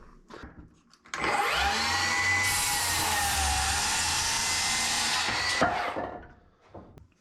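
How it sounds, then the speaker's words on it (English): A saw cuts wood boards to length while a wall is being framed. There is a short start-up whir, then about four and a half seconds of loud, steady cutting noise that stops sharply. Faint handling sounds come before and after. "So I need to cut 2 of them at 75 and 3/4."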